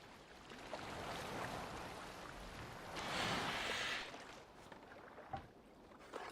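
Boat gliding across water in the video game Assassin's Creed Valhalla, a steady wash of water and wind under the hull with a louder surge midway and a few faint knocks near the end, no talking.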